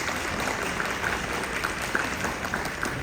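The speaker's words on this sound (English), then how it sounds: "So give him a round of applause." Audience applause at a Disney event for the Walt Disney Archives exhibition, a steady, moderately loud wash of clapping from a crowd with scattered sharper claps throughout.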